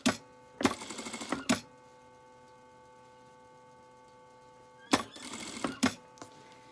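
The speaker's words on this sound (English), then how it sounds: "So you would get it to your machine" Sewing machine stitching a trouser elastic waistband: two short bursts of rapid mechanical clatter separated by a quiet pause, each burst ending in a sharp click, close and fairly quiet.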